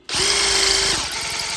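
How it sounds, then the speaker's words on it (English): A DeWalt power drill spins up abruptly and whines steadily and loudly while drilling into metal on a big gate, its motor tone dipping slightly partway through as the bit struggles to grip. "the drill doesn't even get a chance to grip it"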